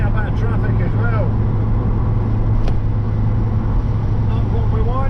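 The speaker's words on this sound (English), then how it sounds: "the wind's blowing the car everywhere" Steady, loud cabin rumble and road roar from a Cavalier 2.0 16v driving through strong gusting wind in traffic, with brief voice-like sounds faint in the background.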